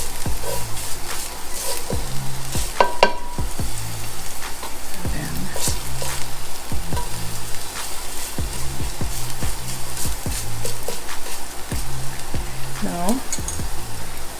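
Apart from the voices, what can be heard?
frying and browning in a pan while making Oong Choy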